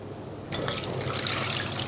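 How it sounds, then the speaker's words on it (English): Cold water from a tap starts suddenly and pours steadily into a saucepan of carrots, a bright splashing rush that carries on to the end, with no talking. "barely cover them with cold water"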